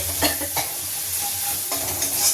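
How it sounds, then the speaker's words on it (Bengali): Vegetables and chicken fry in a small wok, giving a steady oil sizzle broken by a few scraping stirs of a spatula against the pan, close and alone. "সেই জন্য এইভাবে ভাগ করে করে আগে আগে করে ভেজে ভেজে রেখে দিলাম।"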